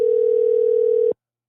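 A telephone ringback tone on an outgoing call placed during a live radio show: one steady, loud, even tone holding for about a second before cutting off abruptly into silence.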